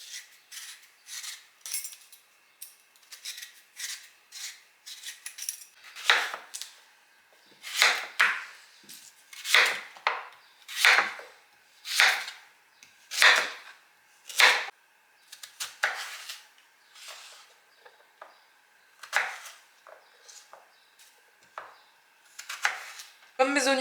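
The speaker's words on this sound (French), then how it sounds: "Donc ici j'ai une patate douce. Je vais commencer par l'éplucher puis je la couperai en cubes." A sweet potato being peeled and chopped into cubes on a board, a long series of sharp, close knife strokes and scrapes in uneven bursts, quickening into regular chops midway, with no talking.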